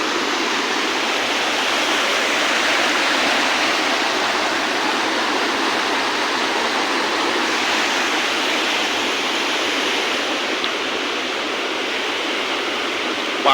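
A rain-swollen stream at Jivanpura rushes in a full, broad, steady roar of flowing water, close and continuous, with no voices over it.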